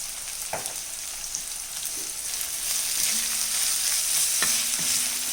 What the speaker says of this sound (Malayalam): ഈ സവാള നല്ലതുപോലെ ഒന്ന് വാടി വരട്ടെ.